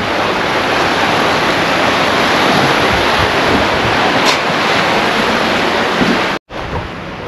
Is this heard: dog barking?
no